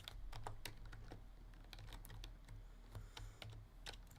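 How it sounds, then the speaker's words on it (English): Close, quiet typing on a computer keyboard: rapid, irregular key clicks in short bursts with brief pauses, heard alone without any talking. "Why am I typing hairdressers?"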